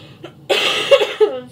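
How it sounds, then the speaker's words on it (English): A single harsh cough bursts out, followed by a couple of short throaty hacks, close up and fairly loud after a brief quiet pause. "Please excuse, like, me coughing."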